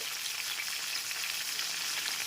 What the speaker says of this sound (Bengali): এরপর গ্যাসের ফ্লেমটা মিডিয়ামে রেখে পটলের টুকরোগুলোকে ভেজে নেব